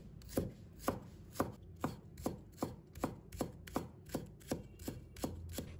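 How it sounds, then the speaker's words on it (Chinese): Green onion whites diced by knife on a cutting board, about fourteen evenly spaced, crisp chops in a steady rhythm, close and clear with no voices. "把葱白切成小粒。"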